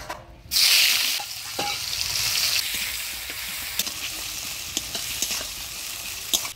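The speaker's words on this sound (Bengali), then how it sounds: "এবারে দিয়ে দিচ্ছি পেঁয়াজ কুচি" Chopped onion hits hot oil tempered with dried red chillies, bay leaf and whole garam masala for a village-style mutton curry, bursting into a loud close sizzle that settles into steady frying with scattered stirring clicks, no voices.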